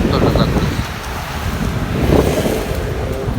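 Strong squall wind roars and buffets the microphone on the seafront at Kobuleti, loud and continuous with gusting surges and rumbling low noise.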